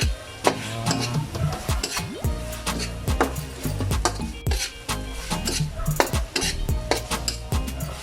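Canned tuna stirred in a pan for a spicy sisig, with a utensil scraping and clinking against the metal again and again, close up, over a light sizzle and no talk.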